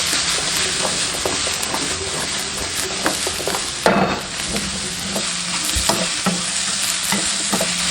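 Bottle gourd chunks sizzle steadily in a hot wok after the aromatics are fried, with repeated spatula scrapes and stirring clatter over a continuous frying hiss, and there is no talking.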